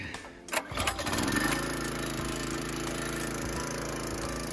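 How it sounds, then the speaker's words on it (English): A small engine cranks with a few sputtering pulls, then catches and settles into a steady, close running drone that continues alone to the end. "Time to fire up the engine"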